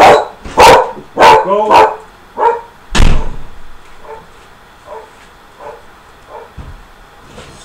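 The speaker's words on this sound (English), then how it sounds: "she started barking" A dog barks in a yard, a burst of four or five loud, close barks in quick succession, then a sharp slam, then softer scattered yips and barks that trail off. One short spoken word comes in partway through.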